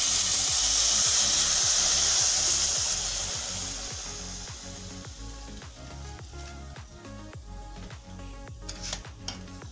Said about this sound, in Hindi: सेवियाँ हमारी फ्राई हो गई हैं, हल्का सा बस इनको फ्राई करना है